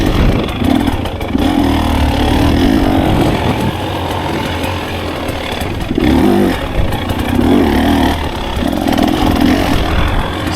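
A Beta 300RR Race Edition two-stroke dirt bike ridden on single track, its loud, raspy engine revving and wavering continuously close up, with throttle surges rising and falling throughout.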